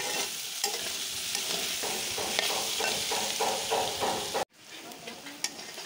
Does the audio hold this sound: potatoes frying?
yes